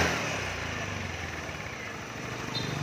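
A 2009 Honda Air Blade Thai fuel-injected scooter idles smoothly with no knocking, a faint, steady low hum running close and alone without speech.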